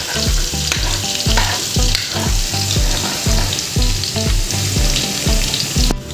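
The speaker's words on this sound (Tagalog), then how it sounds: "Halu-haluin lang po natin ang bawang" Garlic frying in a pan for a seafood boil, a loud continuous sizzle with rhythmic, evenly spaced stirring scrapes close by.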